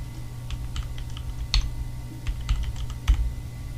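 Rapid keystrokes on a computer keyboard as admin login credentials are typed, with a few louder key presses standing out against a low steady hum.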